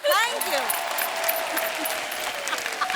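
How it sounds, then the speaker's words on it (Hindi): A crowd bursts into loud, sustained applause, with a voice speaking briefly over the clapping at the start. "जोरदार तालियां हो जाए"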